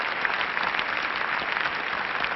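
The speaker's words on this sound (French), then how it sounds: "tandis que les applaudissements du public déferlent sur elle, du haut des cintres, des loges, des balcons" Steady, dense applause from a large arena audience for a figure skater finishing her performance, loud and continuous with no voices on top.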